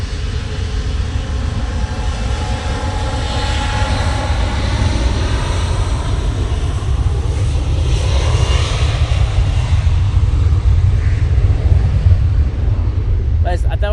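A KLM airliner passes at Manchester Airport with a loud, steady jet engine rumble and roar, close and sustained throughout, ending with a sharp clatter.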